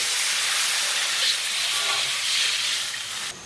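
Tap water poured into a hot wok with beef tripe gives a loud, steady, hissing sizzle that fades slightly near the end. There is no talking.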